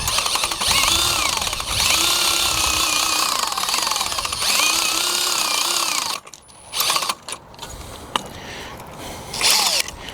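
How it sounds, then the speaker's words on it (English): Power drill running steadily as it winds fence wire onto a Strainrite Triple Reel, a loud continuous whir with a rising-falling whine for about six seconds, then stopping and giving way to scattered clicks and rattles. "put it in reverse, and you can wind it up"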